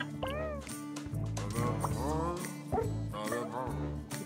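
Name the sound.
cat meow sound in video game Cranked Up Demo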